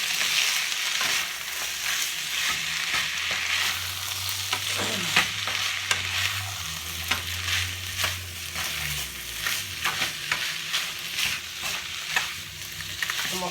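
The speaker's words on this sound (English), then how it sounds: "Breaking that cabbage down because it's frozen. I'm just gonna get that fried up." Frozen cabbage and onions sizzle in a frying pan while being stir-fried, a steady hissing fry broken by scraping and crunching stirs from a utensil, close and continuous with no voices.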